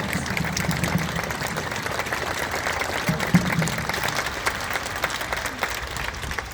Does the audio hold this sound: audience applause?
yes